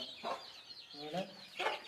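Country hens cluck softly in short, separate bursts at a desi chicken farm where birds are set to brood eggs, faint and fairly close, with some talking nearby.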